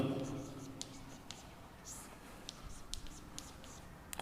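Chalk or marker strokes on a board during a Hindi-language physics lesson on amplitude modulation, heard as short scratchy taps and scribbles scattered through the room, with a faint hum behind them and no talk over them.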